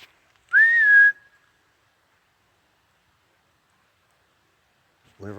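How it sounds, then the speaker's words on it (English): A person outdoors in the woods gives one clear, rising-then-falling whistle lasting about half a second, loud and close against near silence, with a brief voice starting at the very end. "I'm gonna whistle."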